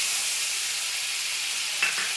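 Onion paste frying in hot oil for a Bengali parshe fish curry, a steady close hiss of sizzling with a couple of faint stirring knocks near the end.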